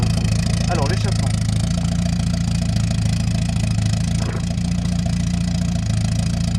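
Peugeot 205 GTI with a stainless steel exhaust system idles in a steady low burble, close and continuous, with a faint brief higher-pitched sound partway through and no talking over it.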